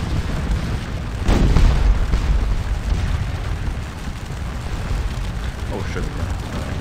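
Cannon canister fire and explosions sound in the Napoleonic battle game Scourge of War Waterloo. Deep booms land early, then a rolling rumble of distant artillery continues as someone talks over it.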